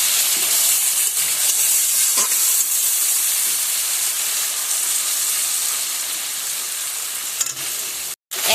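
Water added to turmeric masala in a hot pan, a loud continuous hissing sizzle with steam that slowly eases, close and steady, with light stirring sounds.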